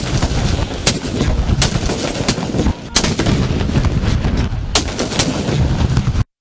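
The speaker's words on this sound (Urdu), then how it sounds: "وفاقی دارالحکومت میں 31 اور صوبائی دارالحکومتوں میں 21 توپوں کی سلامی دی گئی۔" Cannons fire a Pakistan Independence Day gun salute, 31 rounds in the federal capital and 21 in provincial capitals. Loud booming reports strike at intervals over a dense, continuous roar of outdoor noise.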